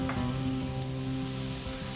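Onions browning in a pan for gluten-free baked mac and cheese, a soft, even sizzle close by with a faint hum beneath and an occasional light tap, no speech.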